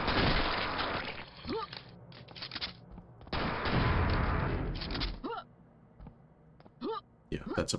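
Gunfire in Quake on a brutalist-style custom map comes in loud, dense bursts, two long volleys broken by quieter gaps, with someone talking in between.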